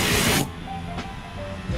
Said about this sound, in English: The graphene ceramic spray is amazing.